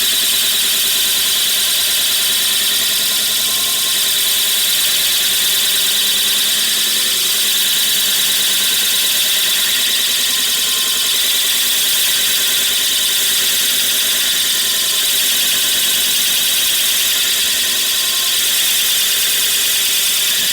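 A power tool drives a fastener into old wooden lath, a steady loud whirring drone with a high whine held without pause for the whole stretch, close by and with no voices.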